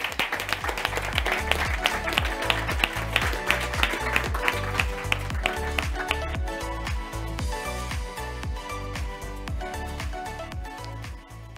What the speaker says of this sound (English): Please, a loud round of applause for her as she makes her way to stage.